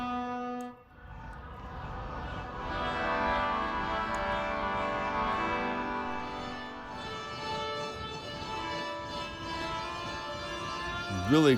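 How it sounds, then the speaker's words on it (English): Synthesized metal pipe sound from the Airwave V3 plugin with resonance maxed rings out as a bright, sustained metallic tone full of stacked overtones, holding at steady loudness for about ten seconds before a short swell at the end. "and then the metal pipe with resonance maxed."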